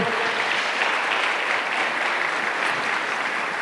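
A church congregation bursts into steady, loud applause during a worship service, a dense wash of many hands clapping continuously with no pauses.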